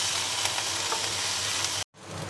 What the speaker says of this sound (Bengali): টমেটোটা দিয়ে আমি এখানে 3 থেকে 4 মিনিট নাড়িয়ে নেব।